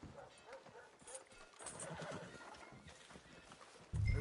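In Red Dead Redemption 2, a horse whinnies and its hooves clip-clop on a town street, moderately close and fairly quiet, with a low thump at the end.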